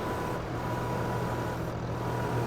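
A tractor starts up and runs in a farming simulator game, a steady loud engine drone with a faint high beeping tone, heard alone with no voices.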